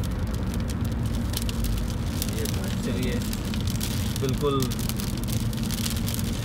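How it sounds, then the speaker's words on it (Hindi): Heavy rain splashes and drums on a car driving through Dubai in a downpour, a dense continuous patter over road and engine rumble, with someone briefly talking. "आप देख सकते हैं बारिश के छींटे की आवाज़ आपको बहुत तेज़ आ रही होगी"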